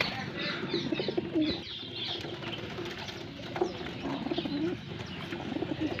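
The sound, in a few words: pigeon eating grain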